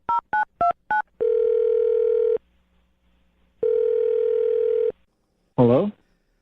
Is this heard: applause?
no